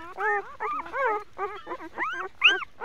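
Puppy from a newborn litter whimpering close up, a run of high, wavering whines in short repeated bursts with brief pauses between them.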